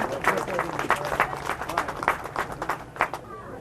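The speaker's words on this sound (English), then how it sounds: "they deserve a nice round of applause for being great representation of Wiscasset Speedway" Audience at Wiscasset Speedway applauding the Drivers of the Month, a fairly quiet, scattered patter of clapping with crowd murmur and some voices mixed in, fading slightly toward the end.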